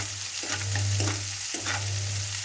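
Chopped onions sizzle in hot oil in a pan for an egg fry, a steady frying hiss broken by a few scrapes of a ladle stirring them, close and with no voices.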